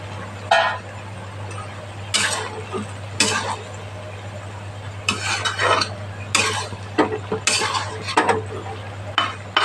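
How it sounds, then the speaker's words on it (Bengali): Lentil fritters go into a banana flower curry in a pot, and a spoon stirs and clinks against the metal in scattered bursts over a low, steady kitchen hum, close by. "আর এই ডাল বড়াগুলো দিয়ে দিচ্ছি"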